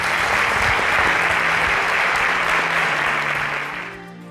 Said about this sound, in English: A round of applause for Uche.